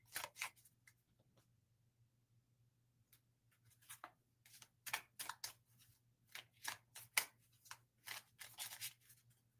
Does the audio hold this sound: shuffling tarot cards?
yes